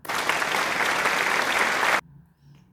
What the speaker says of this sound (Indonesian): Tepuk tangan juga untuk kelompok 2.